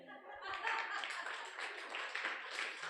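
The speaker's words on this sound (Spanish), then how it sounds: "Denle un aplauso al Señor." An audience breaks into applause, a dense and even clapping from many hands that swells quickly and holds steady for a few seconds at moderate distance.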